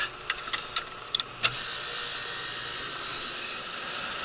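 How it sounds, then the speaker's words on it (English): Refrigerant liquid being pushed out by the compressor of a new, leaking heat pump during HVAC service: a few sharp clicks and ticks, then a steady hiss that holds on without voices. "We're gonna let the compressor push some of the liquid out of it."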